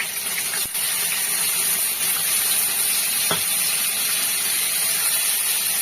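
Pointed gourd frying in a pan with spice paste, turmeric and salt, giving a continuous loud sizzle and hiss with a couple of faint clicks from stirring.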